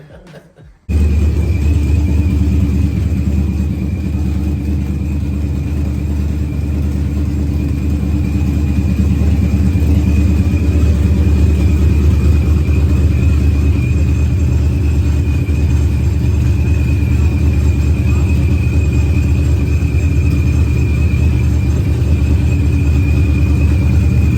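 A Procharged supercharged Ford Coyote V8 idles steadily right after its first fire-up, a loud, close, continuous rumbling drone with a high whine that holds for the whole stretch after a brief quiet start.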